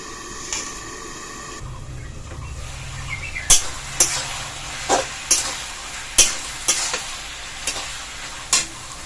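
Pumpkin leaf curry cooks in a pan, with a soft sizzle underneath and a series of sharp, clicking stirring knocks spaced every second or so, fairly quiet and without talk.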